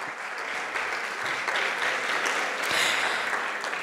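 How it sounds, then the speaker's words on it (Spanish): Warm audience applause welcoming a moderator at a journalism panel event, a full, continuous clatter of many hands that rises slightly near the end. "Fabián García, bienvenido con este cálido aplauso."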